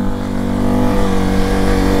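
A Honda XRE 300 motorcycle with a loud, steady engine drone that shifts pitch slightly as it runs through the gears, close by and with no talking.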